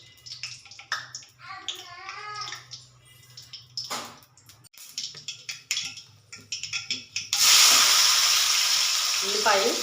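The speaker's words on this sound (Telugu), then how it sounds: "ఫస్ట్ ఆయిల్ పోసి కొంచెం ఆవాలు వేస్తున్నానండి." Mustard seeds hit hot oil for a tomato and stuffed-eggplant curry, bursting into a loud, steady sizzle near the end after quieter kitchen clatter and brief speech.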